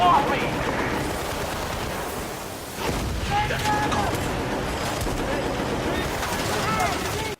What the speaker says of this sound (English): There's a mounted machine gun there that comes in handy